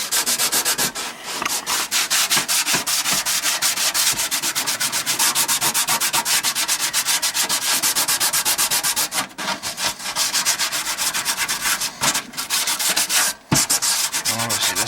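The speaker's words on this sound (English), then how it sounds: "all you're gonna do is get your sandpaper and just sand it down" Sandpaper rubbed back and forth over the stainless steel surface of a kitchen sink, a steady rapid scratchy rasp lasting throughout with a few brief pauses, close and loud with no talking.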